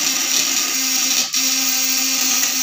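High-voltage battery-powered electric fish stunner for catching tilapia, catfish and baung, humming with a steady high-pitched electronic whine and buzz, close and loud, briefly dipping once, no voices.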